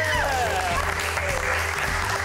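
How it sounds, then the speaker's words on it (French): An audience applauds the winners of a French-language contest, a dense, continuous burst of many hands clapping close by without a pause. "je pense qu'on peut quand même applaudir les garçons"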